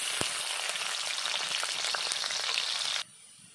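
Whole garlic cloves drop into hot mustard oil and fry with a bright, continuous sizzle after an initial plop, close and even, stopping abruptly after about three seconds.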